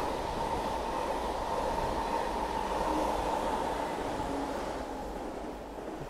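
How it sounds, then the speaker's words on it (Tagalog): A long train, two sets coupled together, runs through a Paris station without stopping, giving a loud, steady rumble and rolling rail noise that holds for the whole stretch and eases slightly near the end. "may paparating na train. Hindi na siya tumigil, oh."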